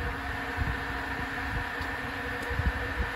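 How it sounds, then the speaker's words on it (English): An electric radiator cooling fan whirs steadily under the hood of a Toyota Corolla KE70 with a worked, balanced engine, running on after hard driving. The hum is faint and even, with a few soft bumps and no talking. "that's a fan. Takes some time to go off, especially when the car's been driven hard."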